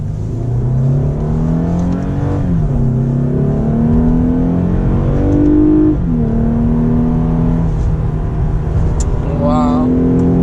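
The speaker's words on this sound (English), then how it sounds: "This car is so loud." A Lexus IS350 F-Sport's 3.5-litre V6 rises and falls through repeated loud revs heard from inside the cabin, its engine pitch climbing and dropping as gears change, with occasional voice remarks mixed in.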